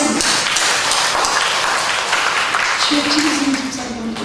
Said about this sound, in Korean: 박수 한번 더 하겠습니다.